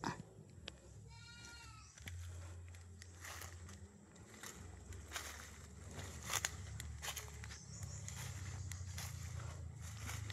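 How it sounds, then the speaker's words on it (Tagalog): Several goats bleat on a farm lot planted with coffee, jackfruit and lanzones trees, with one clear bleat early on. Footsteps and rustling sound faintly nearby against a low, steady outdoor hum. "Madami pong kambing."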